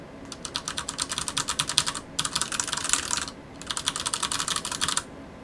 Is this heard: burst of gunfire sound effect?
no